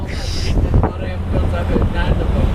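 A ferry crossing the Bosphorus in Istanbul, heard from on board as a steady rushing wash of water and engine rumble, heavily buffeted by wind on the microphone, with faint voices in the background.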